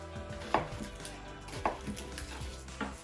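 Chopped onions are broken apart on a cutting board, giving three spaced, distinct knocks against the board under a soft, low background hum.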